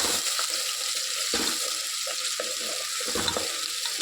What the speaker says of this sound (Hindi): प्याज को हम इसमें डाल लेंगे और हम इसको भून लेंगे, प्याज को फ्राई कर लेंगे थोड़ा सा।